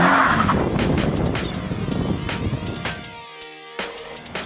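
A 2023 Subaru BRZ spins donuts, its tires squealing loud and close with engine drone underneath, before the screech breaks off and the car settles to quieter, brief chirps.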